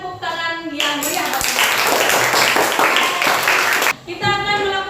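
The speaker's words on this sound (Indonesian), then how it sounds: "berikan tepuk tangan yang meriah" Students clap together in a classroom, a dense burst of applause lasting about three seconds, with a teacher speaking before and after it.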